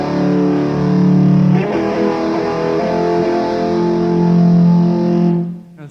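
A distorted electric guitar plays in harmonised thirds, sustained two-note lines ringing loud and clear, shifting pitch a few times before cutting off at the end.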